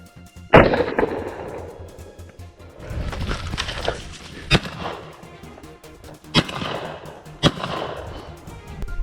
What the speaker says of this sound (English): A gunshot tore through the silence once more.